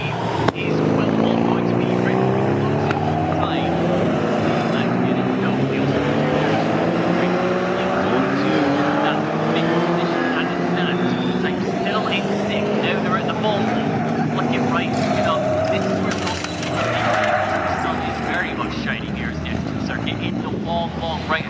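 Vintage racing cars, including a silver Jaguar, roar past at Snetterton circuit in a pre-1963 and 1950s race, engines loud and close with rising and falling pitch, under continuous commentary.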